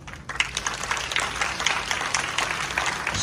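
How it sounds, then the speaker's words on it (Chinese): A premiere screening audience at a film Q&A applauds as a producer is welcomed onto the stage, a dense, steady wash of clapping from many hands, moderately loud throughout. "掌声欢迎亿万票房监制曾汉乾监制"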